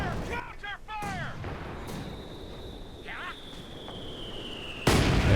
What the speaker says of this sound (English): Big hit from the mortar.